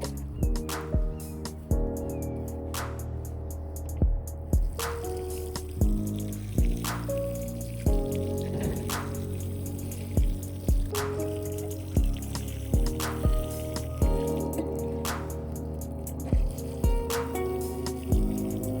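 Garden plants being watered produce soft, irregular splashes and drips of water falling on leaves and soil, quiet and close, with no talking.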